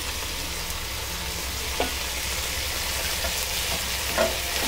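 A masala with coriander and mint fries in a pan for chicken biryani, with a steady soft sizzle and a couple of brief stirring scrapes. No one speaks.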